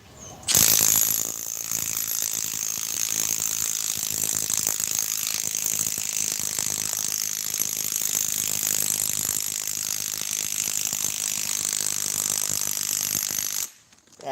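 Milwaukee stubby cordless impact wrench hammering continuously on a stubborn fastener, a loud, steady rattling drive with a warm battery down one bar, starting abruptly and cutting off near the end, no talk over it.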